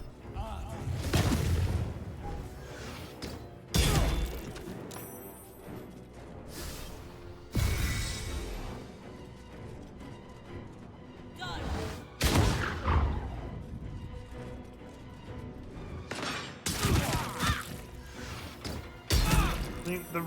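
Heavy weapon fire in the video game Baldur's Gate 3, recoil crossbow shots landing as loud, sharp bursts with crashing impacts at irregular intervals, several blasts in a row, with a voice speaking between them.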